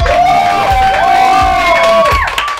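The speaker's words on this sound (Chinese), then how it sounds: "让我们掌声欢迎菅田将晖" A live audience roars with loud cheering and shouts, a dense close wall of crowd noise with whoops, as a guest is welcomed on stage.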